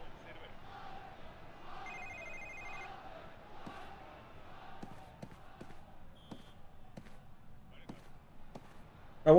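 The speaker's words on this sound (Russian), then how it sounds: "Где-то от телефона." A telephone rings in the James Bond Quantum of Solace video game, its electronic trill repeating in short bursts, moderately faint under a murmuring background crowd and scattered sharp clicks.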